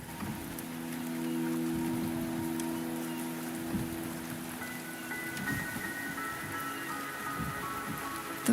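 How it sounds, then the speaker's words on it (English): Steady rain falls in the video game Wuthering Waves, a soft, continuous patter with faint tonal game ambience and hum layered beneath, quiet and even throughout. "the rain is subsiding, and the sky will soon clear."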